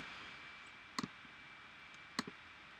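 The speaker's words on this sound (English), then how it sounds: "Right click" Two pairs of quick, faint clicks from a computer mouse about a second apart, each a light double tap over quiet room tone.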